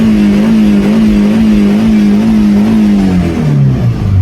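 A Mercedes SLK engine revving to warm up, a loud, close, steady rumbling idle held at raised revs before the pitch drops and wavers near the end, with no talk over it.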